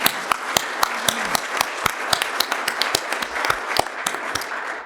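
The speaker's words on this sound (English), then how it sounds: "Please, let's give a round of applause for our speakers and panelists today." Audience applause for the speakers and panelists at the close of an industrial technology panel at a conference forum: scattered, fairly sparse claps, distinct individual hand slaps rather than a dense roar, steady for about five seconds with no talking.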